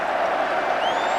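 Football crowd at a 1978 FA Cup match between Ipswich Town and West Bromwich Albion, cheering and applauding in a dense, continuous roar while a whistle-like rising tone sounds faintly toward the end.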